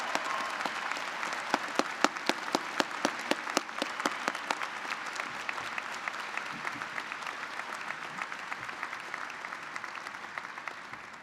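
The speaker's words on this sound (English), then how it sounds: "Will the audience please join me in a round of applause for the JD class of 2015" A commencement audience applauds the graduating JD class of 2015 with a long, steady wash of clapping from a large crowd, with some sharp individual claps standing out early and the ovation holding evenly to the end.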